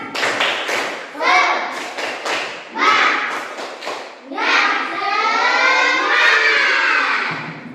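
Children doing a rhythmic spirit clap in a classroom, with patterned bursts of hand claps and chanting voices joining in, loud and close, ending in a longer sustained group chant.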